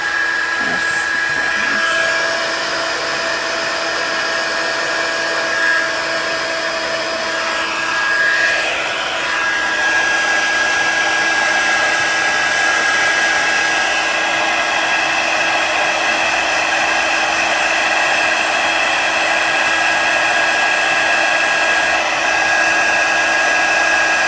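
A heat embossing tool blows hot air over embossing powder on a card, a continuous loud whirring hiss that runs unbroken with no speech.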